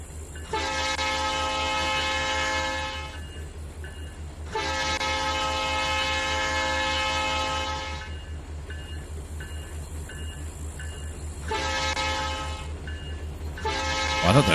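A freight train hauling tanker cars in the Trainz 2019 simulator rumbles steadily, its horn sounding in several long blasts with a shorter one near the end.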